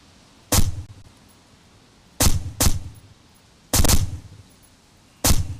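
Suppressed gunfire in a video game, heard as five sharp, muffled shots close by with no talking. They come singly and in a quick pair, each with a short decaying tail, spaced irregularly across the clip.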